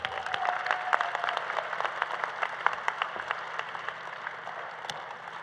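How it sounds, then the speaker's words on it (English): Steady audience applause fills a graduation pinning ceremony for radiography, sonography and surgical technology program graduates, dense clapping from a crowd sustained evenly throughout without speech. "how about a big round of applause for all our program graduates"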